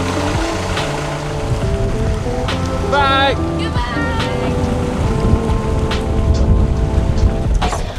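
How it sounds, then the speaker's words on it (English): A passenger boat motor hums steadily on open water in the Philippines, carrying people to an island, with wind and water noise throughout and people talking over it. "now this boat is gonna take us 30 minutes to our home for the night."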